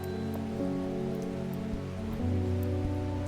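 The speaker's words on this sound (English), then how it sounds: "Does it ever stop raining in Undermere?" Steady rain falls throughout a scene in Strange Horticulture, set in the perpetually rainy town of Undermere, a constant wash of drops under a low tonal music drone.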